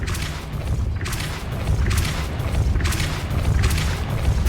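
A Depulso spell is cast in the video game Hogwarts Legacy, giving a dense, loud, continuous magical blast with booming low rumble and repeated bursts of hiss, with no gaps between them.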